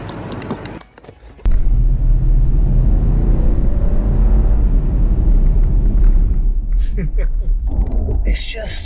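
A 2021 Lexus LX luxury SUV, a twin-turbo diesel LX450d or an LX570, climbs a rough uphill road with a loud, steady rumble of engine and road noise that starts abruptly and holds without a break.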